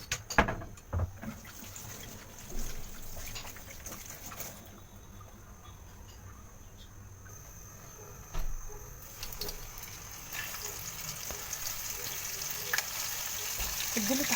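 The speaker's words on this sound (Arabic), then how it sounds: "اديله تحميره بقى في الزيت" Fish frying in oil in a pan, with a quiet, steady sizzle and scattered crackles and occasional stirring knocks over fourteen seconds, somewhat distant and faint.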